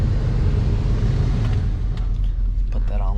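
A car engine rumbles low and steady while the vehicle reverses, a continuous close drone with light clatter toward the end.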